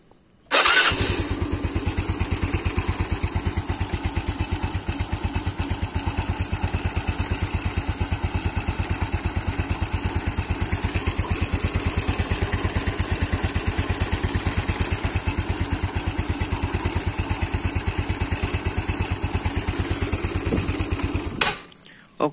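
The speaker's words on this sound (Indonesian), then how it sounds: "Terus tinggal kita tes, kita kontak on starter ya." A Yamaha Mio automatic scooter after V-belt and roller replacement starts with the starter and runs at a steady, rapid-pulsing idle, loud and close for about twenty seconds before cutting off, no talking over it.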